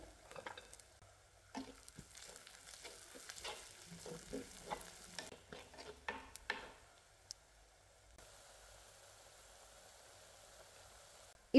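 Onion and curry leaves sauté quietly in a pan for kara chutney, a soft sizzle dotted with stirring scrapes and ticks that fades to a faint hiss in the last few seconds; no speech.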